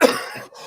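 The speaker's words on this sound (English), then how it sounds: "Sorry, guys, for the coughing." A single short, sharp cough from a person, close and loud, fading quickly.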